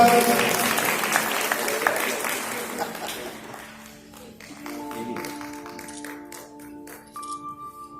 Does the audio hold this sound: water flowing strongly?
no